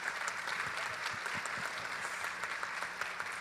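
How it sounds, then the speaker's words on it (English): A keynote audience at the All Things Open 2022 tech conference applauds in a steady, moderately distant wash of clapping that lasts a few seconds, with no talking. "Let's give a round of applause for them and for our companies"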